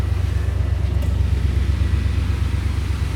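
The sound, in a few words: 1992 Buick Roadmaster V8 engine running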